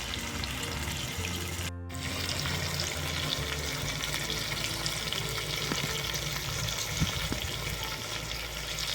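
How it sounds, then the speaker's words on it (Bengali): Chicken chaap fries in a pan over a low flame, producing a dense, steady sizzle with light crackling and occasional faint clinks, close and even throughout. "এই চিকেনটা কিন্তু একদম কম আঁচে ভাজতে হবে"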